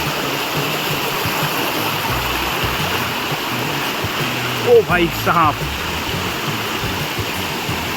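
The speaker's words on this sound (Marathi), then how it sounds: "हे बघा समोर धबधबा आहे." Steady roar of a waterfall near Savarli village, Badlapur, a constant broadband rush heard up close, with a man briefly calling out over it partway through.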